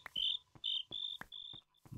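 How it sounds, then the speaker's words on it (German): Crickets chirp at night in Minecraft, with repeated short high trills in an uneven rhythm and a few faint clicks between them, quiet and alone. "Die Grillen."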